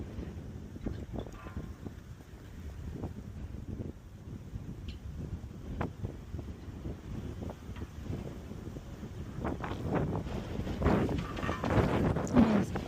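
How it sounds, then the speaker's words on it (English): Gusty wind buffets the microphone outdoors at a veterans memorial cemetery in Southern Arizona, a continuous low roar that swells louder toward the end. "It's very windy."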